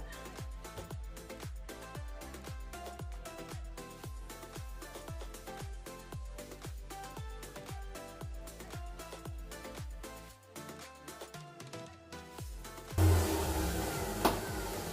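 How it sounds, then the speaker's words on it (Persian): A stand mixer kneads Barbari bread dough with a steady, rhythmic motor hum and regular repeating thumps close by, then changes to a rougher, noisier sound near the end. "گفتم که امروز با ماشین خمیر کنم"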